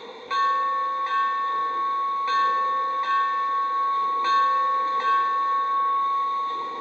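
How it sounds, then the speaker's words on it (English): A model locomotive bell rings steadily and close by, its bright tone repeating at an even pace over a constant hum. "Here's the bell"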